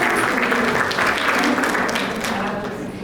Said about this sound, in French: Un grand merci pour vos applaudissements